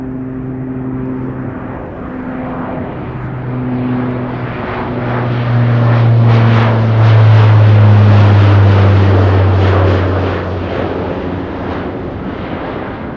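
A cargo jet taxis at Anchorage airport with a loud, close engine roar and a steady droning hum. The sound swells to a peak midway, then eases slightly.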